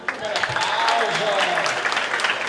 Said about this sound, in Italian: Oh, bel applauso.